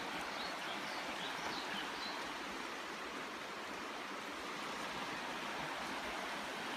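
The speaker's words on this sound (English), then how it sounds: "Got a creek over here." A creek at a canyon campsite flows steadily past, giving a continuous soft rushing and babbling wash that holds an even level throughout.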